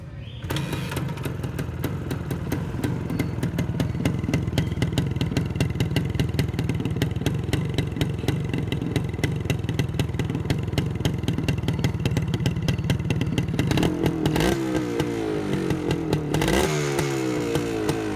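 A Suzuki TS 185cc motorcycle engine runs on its own, giving a steady, loud, rattling two-stroke idle with a rapid even pulse. It changes character briefly near the end, as if revved or shut off.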